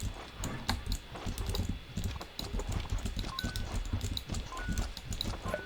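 Computer keyboard keys clatter in quick, irregular bursts of close clicks and taps, continuing steadily throughout with no voices.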